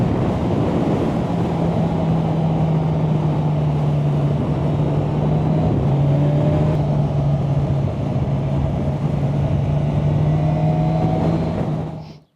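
A 2024 Kawasaki 1000SX Sports Tourer Edition motorcycle pulls hard along back roads. Its steady engine drone sits under loud, constant wind rush for the whole ride, then cuts off abruptly at the end.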